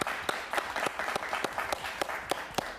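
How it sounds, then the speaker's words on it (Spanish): Studio audience applauding on a Spanish-language television interview program, a dense, steady wash of many hands clapping at close range throughout, with no talk over it. "Y un aplauso para ella, por favor."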